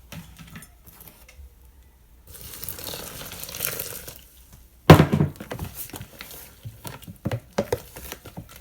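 Scraping and knocking of a spoon stirring a thick, hot oat mixture in a pot, irregular strokes with a sharp clatter partway through.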